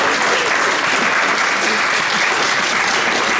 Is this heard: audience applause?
yes